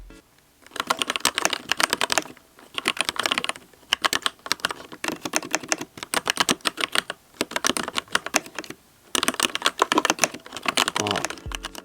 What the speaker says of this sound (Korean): 기계식 키보드에서 제일 중요한 타건음, 타건감에 대해서 짧게 소개를 드리도록 할게요.